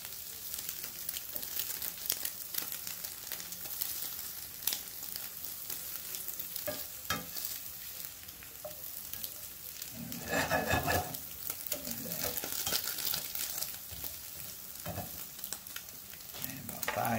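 Food sizzles and fries steadily in a Michaelangelo 10-inch nonstick frying pan with lid. Scattered clicks and scrapes come through, and the hiss swells briefly near the middle.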